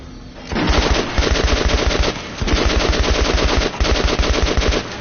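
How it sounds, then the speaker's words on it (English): Rapid automatic weapon fire from test shots at practice dummies in the Metro shooter game, loud and close, with bursts of rattling shots separated by short pauses. "Hey, Artyom, put on a shoot for me, huh? Try out the rest of the weapons you chose."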